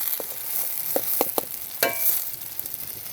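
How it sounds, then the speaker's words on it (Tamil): Butter, about 100 grams, melts in a pan for a milk pudding, giving a soft, steady sizzle with a few faint pops and clicks near the microphone. "இப்போ இதில் நம்ம 100 கிராம் வெண்ணெயை சேர்த்துருவோம். வெண்ணெய் நல்லா உருகிற வரைக்கும் வெயிட் பண்ணுங்கள்."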